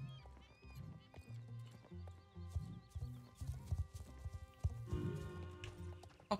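A horse and foal in the Star Stable Online video game: steady clip-clop of hooves and a whinny over soft game music, quiet overall.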